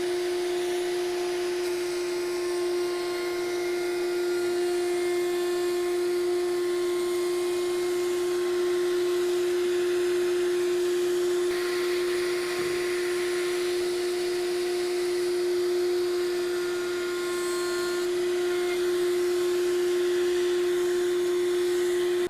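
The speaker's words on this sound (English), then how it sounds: "I'm going to just soften it up a little bit more by rounding over each edge of the leg. And for that, I'm using a 1/2 inch round over bit in my router table" A router table spinning a 1/2 inch round-over bit, shaping the edges of a wooden table leg, gives a steady high-pitched motor whine with a sustained hum, loud and close and unbroken throughout.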